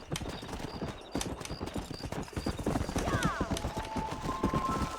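Horse hooves clip-clop at a steady gallop in the Red Dead Redemption video game, loud and continuous, with a whinny-like call and game sounds mixed over the hoofbeats.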